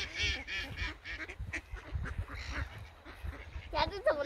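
Ducks quack repeatedly and close by while being fed noodles, their calls mixed with people talking nearby.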